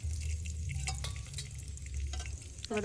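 Small pieces of river fish fry in a pan during village-style outdoor cooking by the Jamuna, giving a steady close sizzle with soft crackles over a constant low wind rumble.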